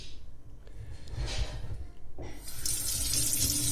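Running tap water splashes onto and wets a Naniwa Super Stone 8K sharpening stone, a soft hiss that swells louder and brighter toward the end, close up, with no talk.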